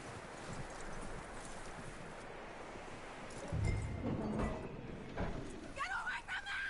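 Horse hooves clip-clop in the video game Red Dead Redemption 2, a soft steady rhythm of hoofbeats amid outdoor wind and rustling ambience, with a voice speaking partway through.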